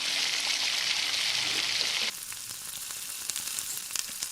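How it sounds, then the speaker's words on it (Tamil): Dry red chillies, tamarind and garlic frying in a pan: a loud, dense sizzle that drops abruptly to a quieter crackle with scattered pops, close by. "ஒரு சின்ன நெல்லிக்காய் அளவுக்கு புளி, 4 பல் பூண்டு சேர்த்து நல்லா வறுத்துக்கலாம்."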